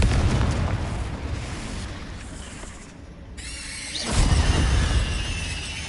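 A Confringo blasting spell goes off in the Hogwarts Legacy video game, a loud boom with a sharp burst and crackling debris over a dense, roaring game-battle background, then a renewed blast near the end.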